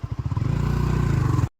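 A motorcycle engine running close by, a loud rapid rhythmic throb that steadies and then cuts off abruptly, with no one talking.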